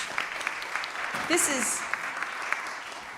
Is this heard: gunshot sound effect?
no